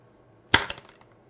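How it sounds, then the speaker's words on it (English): A 12g CO2 cylinder being punctured in an Umarex gun gives one sharp hiss-pop, followed within a fraction of a second by a second burst and a few small clicks. It sounds close and brief, with no one talking. "I'm going to puncture the 2 in the Umarex cylinder."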